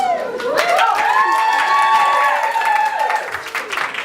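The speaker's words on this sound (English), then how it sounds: "A huge round of applause" A loud round of applause for a book author at a live interview event, with clapping under a prominent drawn-out vocal cheer or whoop that rises and falls before the clapping tapers off.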